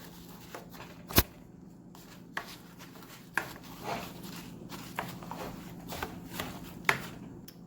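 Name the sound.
mixing oats and sugar with a spoon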